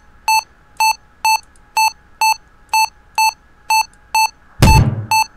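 Warning beeps in the Re-Entry orbital simulator video game: a steady series of about ten short, clean electronic tones at an even rhythm, loud and alone, ending in a sudden burst of noise.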